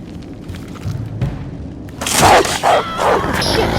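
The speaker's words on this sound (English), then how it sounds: "is there wolves or something down here?" Wolves growl and snarl in a dark underground level of a horror video game, low rumbling at first, then bursting into louder aggressive snarls and barks.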